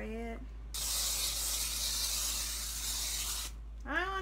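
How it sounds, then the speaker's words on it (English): Olive oil sprayed from a bottle onto cut-out dough in a kitchen, one steady close hiss lasting about three seconds, with a voice briefly before and after. "now I put some olive oil on it to spray it."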